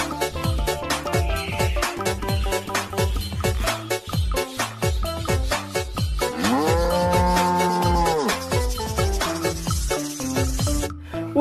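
A brown cow moos in a cartoon farm scene, a drawn-out tonal call rising mid-way through a busy, bouncy musical backing of plucked and percussive notes.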